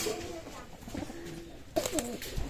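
Saharanpuri running-pair pigeons cooing close by, several low soft coos in a loose rhythm with a busier burst of calls toward the end.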